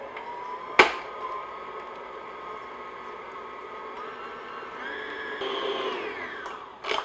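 An electric mixer beats butter and sugar at medium-low speed, a steady whirring motor hum with a sharp clack at the start, the pitch shifting slightly near the end before a final knock.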